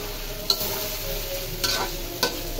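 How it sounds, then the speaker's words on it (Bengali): Chicken curry in a pot gives off a steady sizzle, broken by three brief scraping stirs spaced through the clip, with no voices. "মুরগিটা অনেক সুন্দরভাবে কষানো হয়ে গেছে এখন আমি গরম পানি দিয়ে দেবো মুরগিতে ঝোলের পানি"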